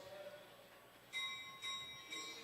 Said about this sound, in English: There's the bell for 1 to go.